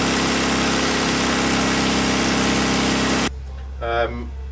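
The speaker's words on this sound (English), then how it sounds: "You can see the load coming on now. The computer is holding it at 2000 RPM." Classic Mini 1380 engine held at 2000 RPM under load on a rolling road, a loud steady drone that cuts off suddenly, followed by a low hum and a brief voice.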